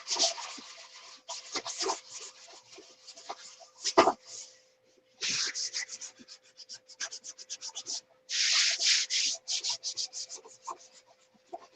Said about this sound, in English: how much sanding goes into building model airplanes